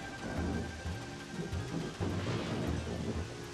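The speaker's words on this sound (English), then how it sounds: "I just noticed that as it was about to rain on me." Rain and thunder in Super Mario Galaxy, a dense rainfall hiss with low rolling thunder rumbles surging in repeated waves, loud and continuous with no speech.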